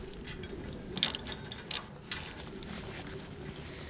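Ratchet tightening trailer brake bolts, quiet clicking and a few sharper metallic knocks close by over a low background hiss, with no talk.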